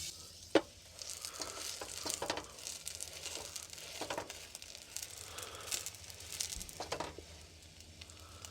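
Bread frying in butter in a pan while camping outdoors, a faint, steady sizzle with occasional crackles and a sharp knock near the start.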